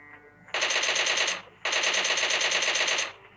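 Two long bursts of rapid automatic gunfire from a mobile shooting game, each about a second long, loud and sharp with a brief pause between them.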